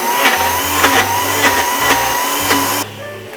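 A Ninja Foodi Nutri Duo blender whirs through a thick smoothie bowl mix, a steady motor drone with rhythmic pulsing as the blade churns, loud and close, cutting off abruptly near the end.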